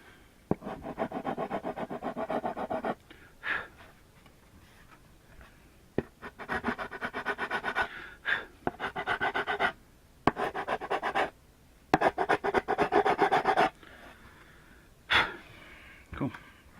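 A chisel shaves burrs off drilled holes in the wood of a live edge bird table, heard as short bursts of close scraping and rasping separated by pauses, with sharp taps between strokes.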